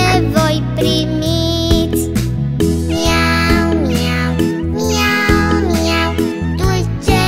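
Kittens meow in a children's song, sung melodic meow-like notes repeating over loud, continuous music with bass and accompaniment throughout.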